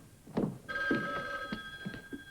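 A classic telephone bell rings in bursts for an old-time radio comedy, a bright metallic trill repeating several times over low knocks, close and fairly loud with no talking.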